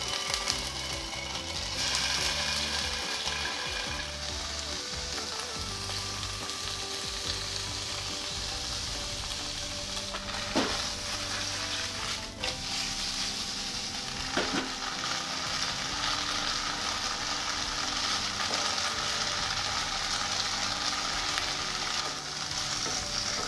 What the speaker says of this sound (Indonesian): goreng tahu.